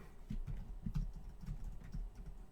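Soft, quiet typing on a 3DConnexion computer keyboard with a numpad, a steady patter of muted keystrokes with no voices.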